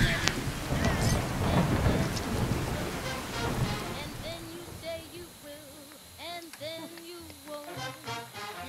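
A thunderstorm with heavy rain in Fallout 4 with the True Storms mod: a dense rushing downpour and rumble that eases after a few seconds, with a voice talking over the later part.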